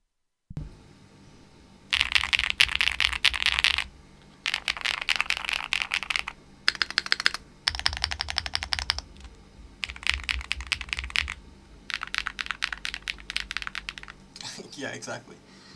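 A mechanical keyboard with long pole switches, GMK keycaps and full foam typed in several separate bursts of crisp, close clacking, each followed by a short silence, with a brief sound at the very end.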